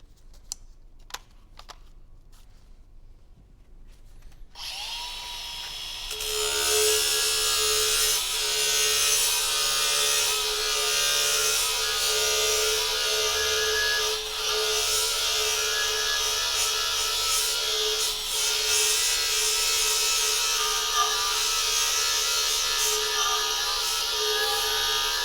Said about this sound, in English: Again, an angle grinder with a variable speed, rolled back to about half